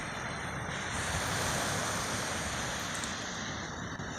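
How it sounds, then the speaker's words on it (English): Indian Ocean surf breaking on a sandy shore by dunes, a continuous rushing wash with wind buffeting the microphone, moderately loud and steady, no voices. "there's the Indian Ocean."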